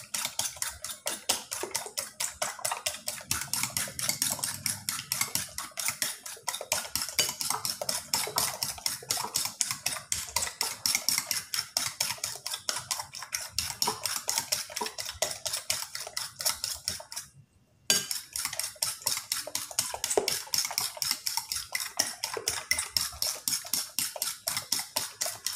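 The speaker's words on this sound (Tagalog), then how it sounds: "Kailangan lang nating batiin ng mabuti para ma-mix yung mga sangkap niya." Chayote omelette mixture for tortang sayote beaten in a bowl, a fast, steady run of close clicking strokes that continues almost without pause and stops once briefly near the end.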